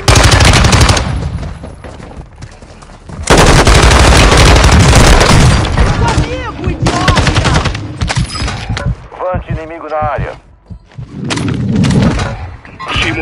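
Bursts of gunfire from a Call of Duty match, loud dense automatic volleys and booms crowding the foreground, with game voice lines and bits of speech in between and a short quieter stretch near the end.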